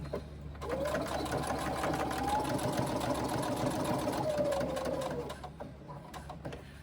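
A sewing machine runs steadily for about five seconds stitching quarter-inch side seams on a fabric pocket pouch, a close, even mechanical whir that starts abruptly and winds down at the end.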